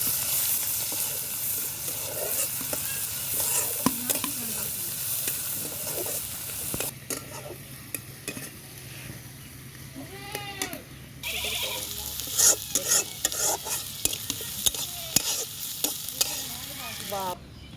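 Onion sizzles and fries in a pan for a Bengali pangas fish curry, with repeated scraping stirs and clinks over a steady loud hiss throughout.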